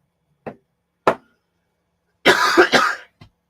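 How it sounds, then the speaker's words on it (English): A person coughs close by, with two short single coughs followed by a harsher burst of several coughs and a faint final one. "Man, I am coughing like crazy"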